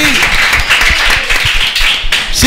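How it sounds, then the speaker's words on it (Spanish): Applause from an audience at a school volleyball team event in Puerto Rico, a steady dense patter of clapping filling the short stretch, fairly loud and continuous with faint voices underneath. "Me dio un aplauso a Zulma que está por aquí."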